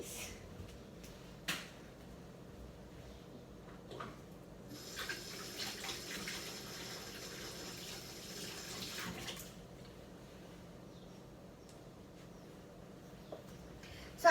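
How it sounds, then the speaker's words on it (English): Tap water runs into a kitchen sink while hands are washed, a soft splashing rush in the middle of the clip with faint knocks and clatter around it and no speech. "So I just went to wash my hands because you always gotta wash your hands after handling raw food just in case."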